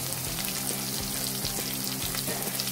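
Sweet corn kernels fry in hot oil for crispy corn, a dense steady sizzle and crackle with occasional light stirring taps, close and unbroken.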